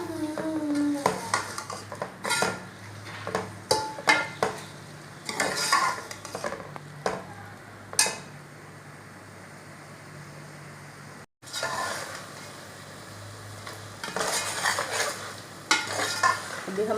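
Okra frying with tomatoes and green chilies in a pan, a steady sizzle broken by repeated scraping and clinking of a spoon stirring against the metal, close and fairly loud.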